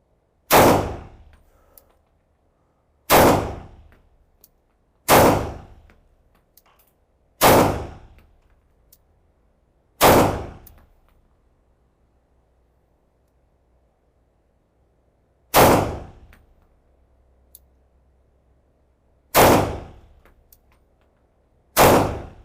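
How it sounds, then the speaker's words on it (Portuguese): Eight loud, sharp Tanfoglio Stock II pistol shots fired at a target 12 metres away at a range, spaced a few seconds apart with a longer pause midway, each ringing briefly before dying out. "Vamos testá-la juntos, vamos testar. Então temos um alvo a 12 metros"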